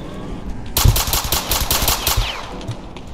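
Gunfire in a Roblox game set in the South Bronx: after a short lull, a rapid burst of close, loud shots crackles in quick succession, then continues more sparsely.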